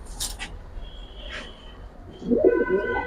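Fancy pigeons, including military, pankhi and red-footed birds, at a pigeon market give a short, low, throaty coo near the end after faint chirps and rustles in the quiet background.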